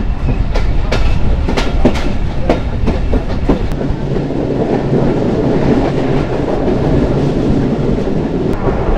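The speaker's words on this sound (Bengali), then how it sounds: "তো আশা করি আমাদের ট্রেন টান দিবে" Dhalarchar Express train running at speed on double-track line in Pabna, Bangladesh, with a steady loud rumble and repeated rhythmic wheel clicks over rail joints throughout, no talking.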